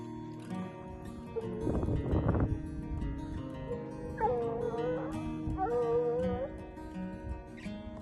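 Trailing hounds in rugged country, followed by a rider on a mule, let out two drawn-out, wavering howls at middle distance after a louder burst of baying, over a steady background hum.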